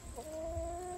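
Chickens on a Southeast Michigan permaculture homestead give a short, soft, continuous call close by, one steady murmuring cluck held for about a second, with no talk over it.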